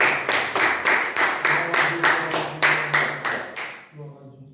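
A church congregation claps in a steady, rhythmic beat, about three claps a second, loud and close over a low hum of voices, before the clapping stops.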